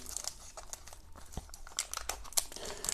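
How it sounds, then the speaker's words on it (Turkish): Plastic wrapper of an Eti Gold chocolate wafer being torn open and crinkled up close, a continuous busy rustle with sharp crackles for about three seconds and no talking. "E, şöyle hemen paketimizi açalım."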